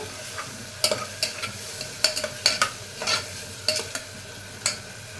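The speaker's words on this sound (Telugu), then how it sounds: "ఇదిగోండి కొబ్బరి అన్నీ బాగా, పచ్చిమిరపకాయలు, మన గరం మసాలా అన్నీ బాగా వేగిపోయేవి" Coconut, green chilies and garam masala fry in a pan while a spatula stirs them, giving a steady soft sizzle broken by sharp, irregular scraping clicks, with no talk.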